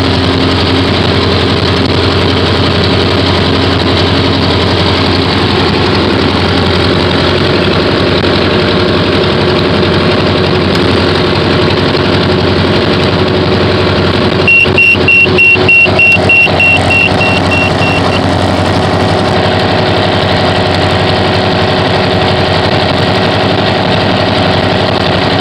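A Hyundai H5 engine idles steadily at close range, a continuous mid-pitched drone throughout with a short burst of rapid clicking partway through.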